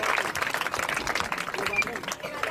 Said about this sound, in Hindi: जोरदार तालियां मेरी नन्ही गायिका के लिए